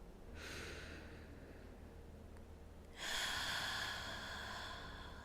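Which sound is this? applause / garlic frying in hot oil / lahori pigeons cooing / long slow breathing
long slow breathing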